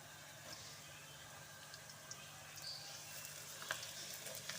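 Garlic frying in a pan for a ground-meat and drumstick keema dish, giving a soft, steady sizzle with faint crackles throughout, fairly quiet and with no talking.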